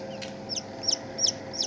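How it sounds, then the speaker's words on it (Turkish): Newly hatched Sebright chicks just out of an incubator cheep in a short series of four high, quick chirps at a steady rhythm over a low background hum, close by with no talking. "Evet 22 tane şu anda elimizde civcivimiz var arkadaşlar."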